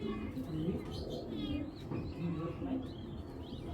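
A white racer pigeon hen coos softly in low, repeated murmurs amid other birds' faint chirps and a busy loft background, fairly quiet and steady throughout.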